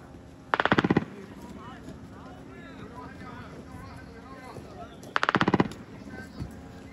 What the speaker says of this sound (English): machine gunfire came from within 115 meters of the camera